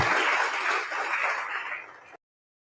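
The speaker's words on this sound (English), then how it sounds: "Can we have a big round of applause for all the dignitaries present here?" A room audience applauds for dignitaries at a public outreach session in Bengaluru, a dense wash of clapping that holds steady for about two seconds and then thins and cuts off abruptly.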